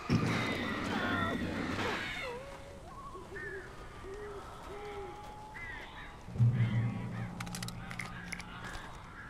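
Crows caw in the Alan Wake video game, a series of short, fairly faint calls spread across a dim background, with brief speech and louder noise bursts.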